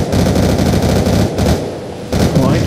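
Fully automatic gunfire in Black Ops 2 Zombies, loud close bursts of rapid shots rattling in quick succession, breaking off briefly near the middle and again before the end, then resuming.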